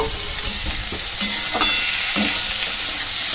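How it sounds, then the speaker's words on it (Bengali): Sliced onions fry in hot oil in a pan with a steady broadband sizzle, punctuated by a few scraping stirs of a utensil against the pan, close and fairly loud with no talking. "পেঁয়াজগুলো দিয়ে হালকা ভাজা করে নেব।"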